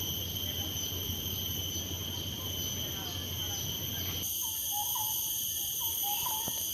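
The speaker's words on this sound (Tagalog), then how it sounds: "Mga huni lang ng ibon yung nakikita." Birds call in short, repeated chirps over a steady hum of insects and a faint high-pitched drone, outdoors in Labrador Nature Reserve, Singapore, with no one speaking.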